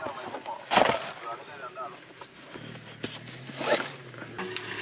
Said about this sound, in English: put a towel on that so you can close it and zip it up when you're driving down the bumpy road